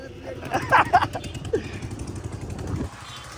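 A dirt bike's engine runs close by, rumbling unevenly with a few revving swells, while someone talks over it.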